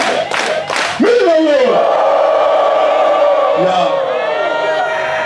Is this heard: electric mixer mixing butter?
no